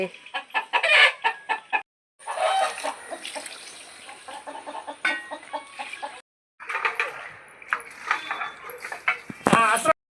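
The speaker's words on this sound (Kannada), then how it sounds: "ಕೋಳಿ ಬೊಬ್ಬೆ ಹೊಡಿತಾ ಇದ್ದಾವೆ" Chickens cluck in repeated bursts and a rooster crows near a home yard, with sounds fairly close and loud, broken by two brief gaps of quiet.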